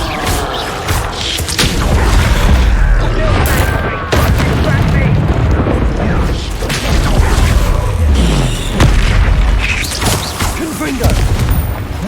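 Repeated Confringo fire spells from Hogwarts Legacy burst as loud, booming explosions with crashing impacts. They come in quick succession over a dense, continuous game soundscape, with voices underneath.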